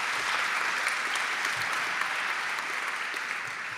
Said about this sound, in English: So give them all a hand of applause